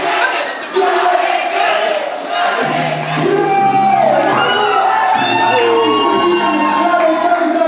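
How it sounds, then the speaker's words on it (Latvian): A crowd at a rap concert during a museum night event cheers and shouts, with loud whoops and voices rising over continuous, dense, nearby noise that carries throughout. "Ovācijas, tur baigais koncerts"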